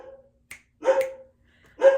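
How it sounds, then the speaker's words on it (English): A pet dog barks nearby: two sharp, loud barks about a second apart, preceded by a brief click, with silence between them. "And as soon as I said coyote, Luna started barking."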